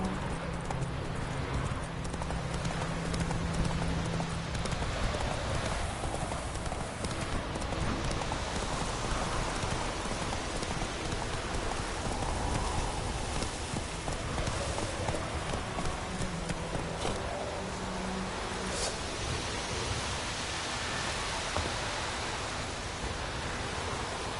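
Hoofbeats of Roach, the horse in The Witcher 3, clopping in a steady rhythm over a dense bed of ambient game noise, moderately loud throughout with no voices.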